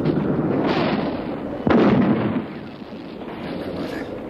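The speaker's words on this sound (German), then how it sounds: "Achtung! Eine Handgranate!" A sharp, loud hand grenade explosion bursts out of continuous rumbling noise, followed by a decaying roar that fades back into the background din.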